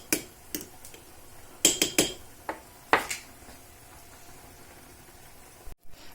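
A ladle clinks and knocks against a metal pot while chorba soup is stirred, a handful of sharp, close metallic taps clustered in the first three seconds, then quiet simmering.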